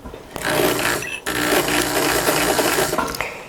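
A sewing machine with an edge stitch foot stitches stretch lace for a jacket, a close, fast, steady whirring run that pauses briefly, then resumes and continues to the end.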